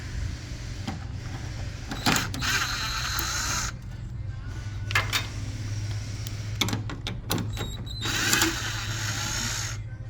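Work under a 2015 Mercedes-Benz C300 on the transmission undercover, with short bursts of a power tool whirring on and off at close range, separated by low background hum and occasional clinks.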